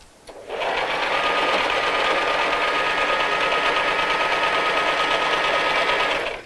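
A sewing machine stitches a straight seam across the top of a fabric tote bag, giving a steady, close, continuous mechanical whir that runs for about six seconds without talk.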